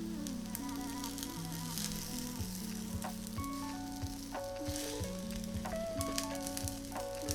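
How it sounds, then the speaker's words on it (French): Vegan omelette batter cooks in neutral oil in a pan over medium-high heat, with a quiet, steady sizzle and faint crackles continuing throughout. "Pour la cuisson, je suis à feu moyen fort et j'utilise de l'huile avec un goût neutre."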